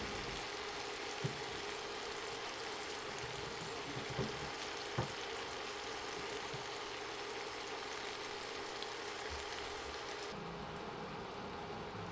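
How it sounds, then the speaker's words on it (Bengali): Shashlik skewers fry on a home stovetop, giving a steady, low, even sizzle that runs unbroken for the whole stretch, with a few faint clicks and no voices. "একটু পরপর ঘুরিয়ে ঘুরিয়ে সব দিক ভালোভাবে ভাজতে হবে"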